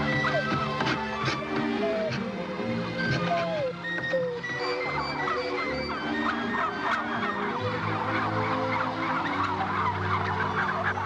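Several turkeys gobble repeatedly and loudly nearby, their rattling calls overlapping steadily throughout.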